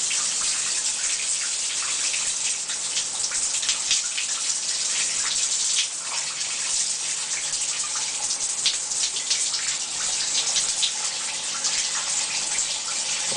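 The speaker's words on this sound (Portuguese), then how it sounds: "deixa só a mamãe abrir o chuveiro primeiro" Steady hiss of running water spraying down, continuous and fairly loud with no voices.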